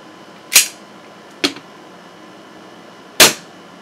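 A Glock 19 replica pistol fires three sharp, snappy shots spaced unevenly over a few seconds, close and crisp like a cap gun, with quiet background between shots.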